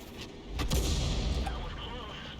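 M44 self-propelled artillery shell fired and landing in a video game battle: a sudden close crack followed by a broad, rumbling boom that lingers and slowly fades.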